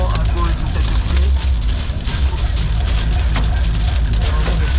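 Heavy rain from a supercell thunderstorm drumming hard on a car on the A4 motorway, a dense, loud, steady roar with road rumble underneath.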